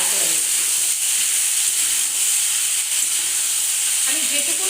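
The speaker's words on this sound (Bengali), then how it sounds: "একটা টমেটো কেটে রেখেছি, সেটা এই সবজিগুলোর সাথেও একটু ফ্রাই করে নিচ্ছি।" Chopped tomato fries with vegetables in hot white cooking oil, a steady bright sizzle and hiss that continues throughout, with faint stirring noises near the end.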